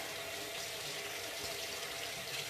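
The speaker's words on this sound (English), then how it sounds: "Run that water till it's cold." Kitchen tap running steadily into a sink, a faint, even hiss of flowing water with no break and no talking.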